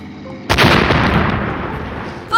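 A cartoon bomb goes off with a sudden loud blast, then a long rumbling, crackling decay, and a sharp new burst of sound right at the end.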